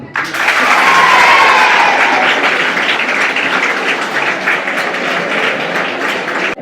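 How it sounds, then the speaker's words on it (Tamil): Loud, sustained audience clapping fills a school hall during a Tamil-language school event in Thanjavur, a dense wash of hands continuing steadily throughout. "இதை விட நீங்கள் ஒரு இன்னொரு தகவல் சொன்னால் நீங்கள் அழகாக கைதட்டுவீங்க"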